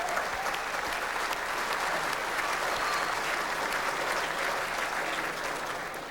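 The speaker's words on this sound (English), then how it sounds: "a round of applause" A large audience claps steadily and continuously, a dense, even roar of hands at a football awards night honouring medal-winning players.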